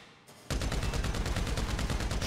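Rapid automatic gunfire at the Ammu-Nation shooting range in GTA V erupts after a brief quiet, a loud, close stream of evenly spaced shots continuing without pause.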